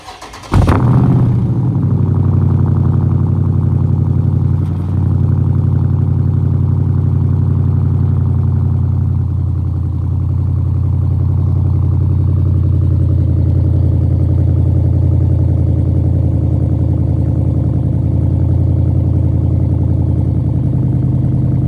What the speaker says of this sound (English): this is the cold start video for my exhaust.